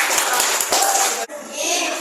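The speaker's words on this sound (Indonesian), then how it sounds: "Baik, tepuk tangan untuk kelompok." Classroom applause for a student group in an Indonesian lesson, a short burst of children clapping close by with a brief break partway through.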